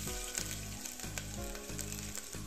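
Ginger sizzles steadily in hot cooking oil, a close crackling fry with soft rhythmic stirring knocks and no voices.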